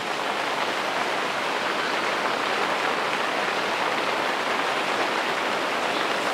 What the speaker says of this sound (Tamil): இப்போ பார்த்திங்கன்னா பயங்கர மழை பெய்யுது வெளியே.